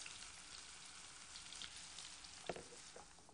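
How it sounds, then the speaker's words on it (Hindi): Finely chopped onion frying in hot oil, a faint, steady sizzle with a soft crackle and one brief louder pop toward the end. "अब ये तेल गरम हो चुका है और आप इसमें डालें बारीक कटा हुआ प्याज"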